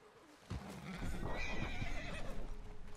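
An agitated horse that refuses to calm down whinnies loudly in Red Dead Redemption 2, with a rising, strained neigh at close range over a steady rumble of game ambience.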